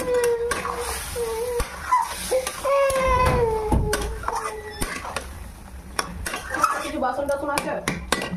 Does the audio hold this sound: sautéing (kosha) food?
yes